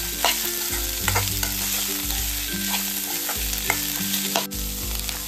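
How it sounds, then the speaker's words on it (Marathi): Onion, chilli and radish leaves stir-frying in hot oil, a steady loud sizzle with a spatula scraping the pan in rhythmic strokes, close and with no talk. "आणि ना आता कांदा आणि मिरची अगदी मस्त असं परतून घ्यायच्या तेलावरती।"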